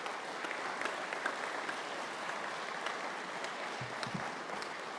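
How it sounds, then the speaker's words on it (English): A conference audience gives a sustained round of applause for Seamus O'Rourke. The clapping is even and continuous throughout, with no voices over it. "You might give him another big round of applause."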